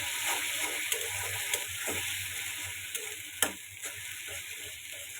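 Spices with turmeric powder and salt sauté in oil in a pan, giving a continuous quiet hiss and sizzle with occasional sharp clicks and taps of a stirring utensil, close by with no talking.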